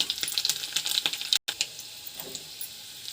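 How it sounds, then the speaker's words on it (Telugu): Mustard seeds, cumin, dried red chillies and freshly crushed garlic frying in hot ghee with a little oil for a tempering, giving a steady close crackling sizzle with sharp pops and a brief cut near the middle. "నెయ్యి కాగిన తర్వాత ఆవాలు, జీలకర్ర, ఎండుమిర్చి, ఫ్రెష్గా దంచిన వెల్లుల్లిపాయలు"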